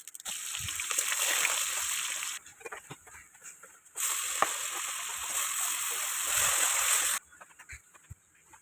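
Boiled chickpea dal cooking in a pot, a steady close hiss and sizzle with splashy bubbling in two long stretches separated by quieter gaps, with no talking over it.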